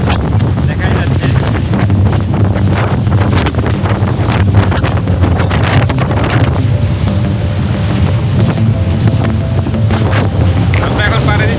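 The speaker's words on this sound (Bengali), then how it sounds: "আমরা এখন পাড়ি দিচ্ছি ইন্ডিয়ান ওশেন।" A Sri Lanka Navy boat crossing the Indian Ocean near Delft Island pushes through rough waves, with loud, constant wind buffeting the microphone, a rumbling engine and splashing water throughout.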